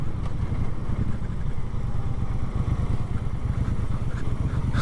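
A Triumph Bobber motorcycle riding through the Peak District, its engine a steady low rumbling drone with constant wind and road noise, heard close and continuous without talking.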